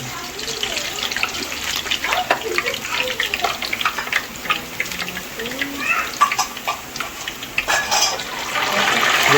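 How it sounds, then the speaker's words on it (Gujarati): Salt water is poured into hot oil on an electric stove while homemade potato wafers are made, giving a loud crackling, sputtering sizzle with splashing bursts that build toward the end. "મીઠાનું પાણી નાખવાનું"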